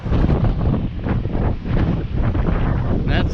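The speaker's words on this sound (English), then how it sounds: "that's the side where the wind's coming from, and it's really rough out there" Strong, rough wind roars and buffets the microphone on the causeway to Santa Rosa Island near Navarre Beach, Florida. The rumble is loud and continuous for the whole span.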